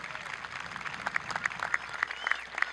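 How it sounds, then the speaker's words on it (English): Graduation audience at a high school ceremony breaks into steady applause, a dense patter of many hands clapping at moderate distance with no voices over it. "give yourselves an extra round of applause"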